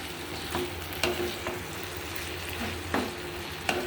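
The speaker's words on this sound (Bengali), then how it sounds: "এটা একটু কষিয়ে নেব সুন্দর করে সুন্দর করে কষিয়ে নিচ্ছি" Pointed gourd (potol) sautéed in a pan makes a continuous sizzle, broken by several sharp scraping stirs from a utensil at irregular intervals.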